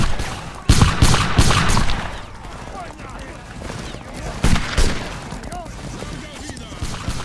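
Musket volleys in a multiplayer line-battle game, with infantry firing at a Spanish line. Booming shots come in irregular clusters over a noisy battlefield wash, and voices call out over the fire.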